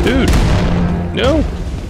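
Gunfire in the shooter game Wolfenstein 2: The New Colossus: two sharp, booming bursts about a second apart under a steady rumble, with a voice speaking loudly over the shots.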